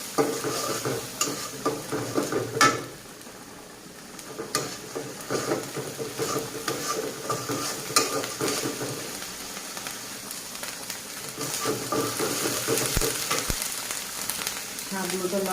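Onion paste and garlic paste sizzling in hot oil, a long rain-like crackle with repeated stirring scrapes and clinks, easing briefly before building again.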